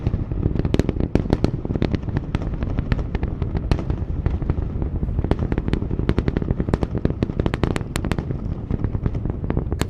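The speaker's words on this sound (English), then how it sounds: "Starship approaching max Q, the point of peak aerodynamic pressure on the vehicle." Super Heavy booster engines of a SpaceX Starship during ascent near max Q, heard as a loud, continuous crackling roar with rapid sharp pops and bursts running through the whole stretch.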